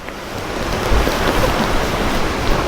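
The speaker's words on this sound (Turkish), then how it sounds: "Abi felaket bir yağmur ya. Bu nasıl yağmur?" Heavy rain pours steadily in a dense, continuous hiss, loud and close, with no voices.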